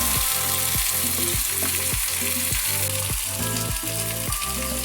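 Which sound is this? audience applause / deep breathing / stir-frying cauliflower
stir-frying cauliflower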